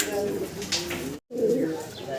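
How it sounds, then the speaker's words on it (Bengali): A pair of Super Mili racing pigeons coo in soft, throaty, repeated calls, broken by a brief drop-out midway, with a close, low background. "মাসাল্লাহ দেখেন অসাধারণ ডাকাডি করতেছে একজোড়া রেসার না ভাই সুপার মিলি"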